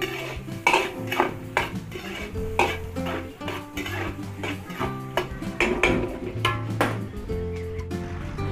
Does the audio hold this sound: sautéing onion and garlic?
yes